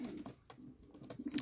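Yellow Czech show pigeons in a new loft coo softly in repeated low, throaty bursts, quiet and close, with no other sound around them.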